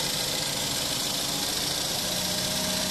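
The 2013 Ford Escape SEL's four-cylinder EcoBoost engine runs steadily at idle, a continuous close mechanical hum and whir with no talking over it.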